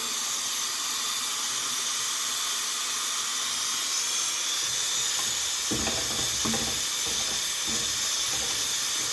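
A pressure cooker on the stove, with chicken legs and corn going into a corn soup, gives off a steady, loud broadband steam hiss throughout, joined midway by a few short clattering bursts.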